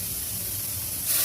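Mustard seeds, urad dal, dried chillies, curry leaves and turmeric tempering in hot oil for curd rice, giving a steady, close, broadband sizzling hiss that swells louder near the end, with no talking.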